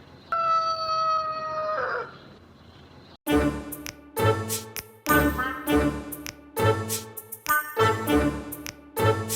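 A single drawn-out rooster crow rings out at dawn, then gives way to loud, rhythmic music with pulsing beats.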